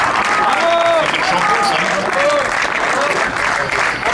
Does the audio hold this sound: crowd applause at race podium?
yes